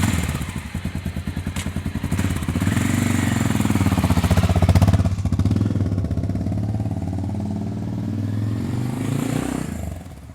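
A Honda Dominator 650 motorcycle's single-cylinder engine runs steadily and close up for about ten seconds, a loud pulsing thrum with a slight swell near the middle, no voices.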